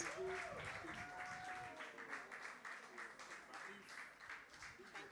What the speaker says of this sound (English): Clap for our hostess.